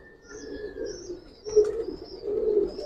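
A giribaz pigeon coos softly in its loft, with low repeated coos rising and falling, plus a few faint higher chirps from other birds nearby and no talking.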